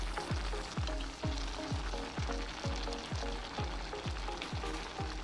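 Pineapple jam with a piece of cinnamon and sugar cooks in a pan, giving a soft, steady sizzle and bubbling with regular scraping strokes from stirring, close up and without voices.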